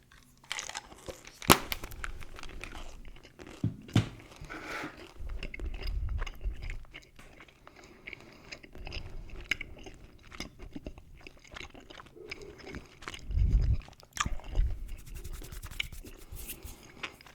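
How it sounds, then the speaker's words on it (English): Gum being chewed close up: soft, irregular wet smacks and clicks, with a few louder chomps and pops between quieter stretches, no talk. "chewing some gum"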